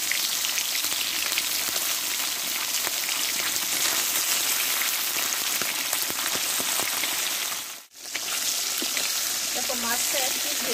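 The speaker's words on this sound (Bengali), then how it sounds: "দেখো এইবার আমি এতে একটু সরষের তেল দিয়ে দেবো, মাছটাকে আমি ভেজে নেব।" Salted, turmeric-rubbed fish fries in hot mustard oil with a loud, dense, continuous crackling sizzle that drops out briefly before resuming, with a voice heard faintly near the end.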